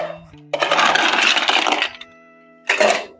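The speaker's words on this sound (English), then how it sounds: "Fill the shaker with ice cubes" Ice cubes tumble into a metal cocktail shaker in two close, loud rattling bursts, a long clattering pour followed by a shorter one, with a faint ringing tone in between.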